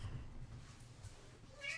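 A cat meows over a low background hum, with a brief higher cry near the end.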